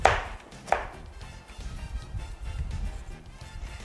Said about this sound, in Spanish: vamos a partir la cebolla como unas julianas, se va a encontrar un poquito grande ella